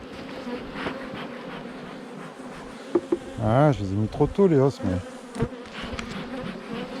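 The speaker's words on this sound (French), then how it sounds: "Ça dégueule d'abeilles, ça va pas tarder à monter, ça." A dense, continuous buzzing of many bees swarming out of a hive with a Caucasian queen fills the air up close, while someone talks briefly over the swarm.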